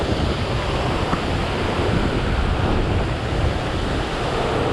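Strong wind buffeting a small fishing boat on a lake below Center Hill Dam, a dense constant roar of wind noise across the microphone with water rushing beneath, loud and unbroken.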